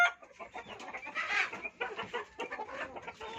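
Backyard chickens in a La Union province coop cluck in quick, busy bursts close by, several birds overlapping in a lively, continuous chatter.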